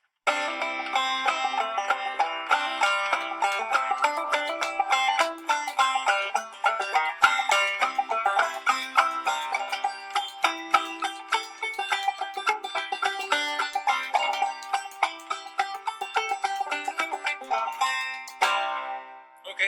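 Folk spoons clatter in a fast, busy rhythm against a leg and hand alongside a bright plucked banjo, playing continuously up close for about twenty seconds.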